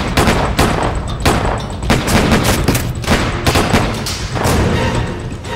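Rapid gunfire in a staged shootout, with dense bursts of overlapping shots and thuds crackling loud and close for several seconds without pause.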